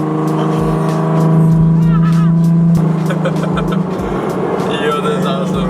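Cabin sound while driving to pick up a twin turbo 300ZX: a steady low road and engine drone runs throughout, with a voice talking over it for much of the clip.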